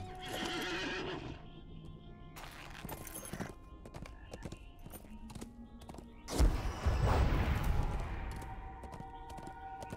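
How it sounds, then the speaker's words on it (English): A mounted steed in the video game LOTRO whinnies loudly at the start, then hooves clip-clop steadily, with a louder burst of stamping and snorting midway, game ambience and effects around it. "Let's get on the steed."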